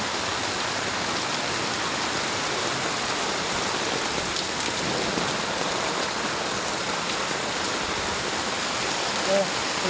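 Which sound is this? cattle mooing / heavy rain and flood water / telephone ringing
heavy rain and flood water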